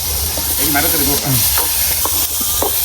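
Pumpkin and other vegetables sizzle steadily in a hot pot while being stirred with a spoon, a close, continuous frying hiss with scraping strokes and a person talking over it.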